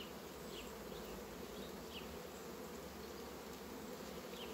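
Honeybees crowding a single frame of a struggling colony, a steady, dense hum of many wings that stays constant and even throughout, fairly faint with no voices.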